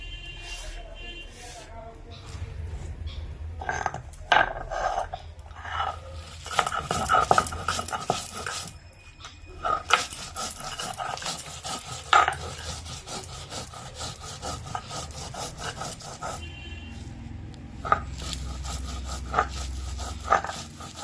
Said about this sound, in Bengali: এই যে চিংড়ি মাছ ভাজা, এখানে রসুন, কালো জিরে, লঙ্কা, লাউ পাতা ভাজা, এগুলো এখন আমি বাটবো